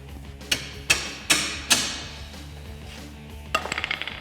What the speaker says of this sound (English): Once I get it started, I'm going to tap it in with a hammer.